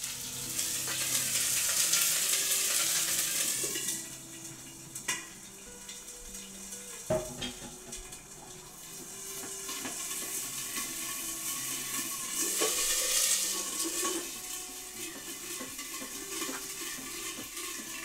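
Food sizzles and fries steadily in a hot wok, a loud continuous hiss that swells again later, with a few clanks of cookware along the way.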